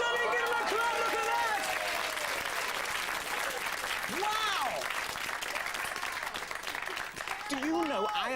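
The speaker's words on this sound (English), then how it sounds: "Give him a clap!" Audience applause at a live Sooty puppet show, steady crowd clapping throughout at moderate distance, with a presenter's excited voice and children's shouts rising over it.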